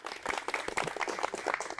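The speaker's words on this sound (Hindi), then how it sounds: "जोरदार तालियां के लिए बजा दीजिए" An audience at a farmers' quiz event in India claps, quick uneven hand claps at moderate volume that quickly become dense, with no voices over them.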